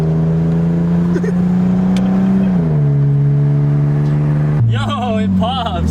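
A straight-piped BMW E36 325i exhaust droning loudly at steady revs from inside the car, the pitch stepping down slightly before a quick rev blip near the end.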